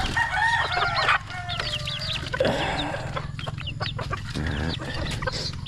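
Chickens cluck and cackle close by in quick bursts, with a rooster crowing partway through, over a low steady background hum.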